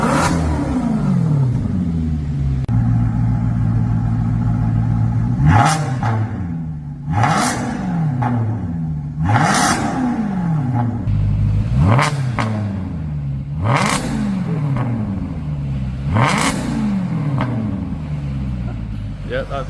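Maserati GranTurismo S on its stock exhaust revving hard and repeatedly, each blip of the engine climbing and falling in pitch across the clip, loud and close.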